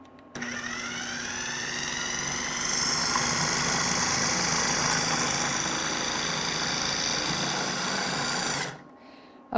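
A food processor blends warm chocolate mousse, its motor whirring loud and steady for about eight seconds, rising slightly in intensity before cutting off abruptly.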